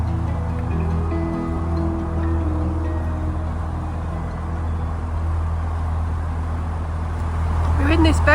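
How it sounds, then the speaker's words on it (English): A steady low rumble of distant, unseen road traffic heard from a green canal corridor through Coventry, continuous throughout, with a faint tonal hum and a brief rise near the end. "we can hear lots of traffic, but we can't see any at all"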